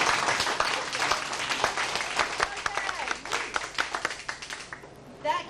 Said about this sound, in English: let me have some test applause so I can get my meter on the right setting